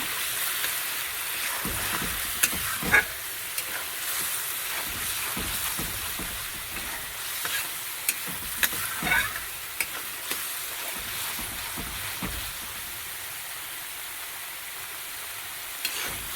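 Spice paste frying in a pan for a potato and eggplant dish, a steady sizzle running throughout with occasional soft scrapes of stirring.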